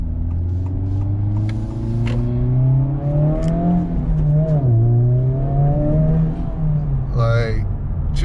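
Honda Civic Type R FL5 engine pulling hard while cornering, a loud steady drone with rising harmonics as it climbs through the revs, falling away briefly at a shift, with a voice speaking over it.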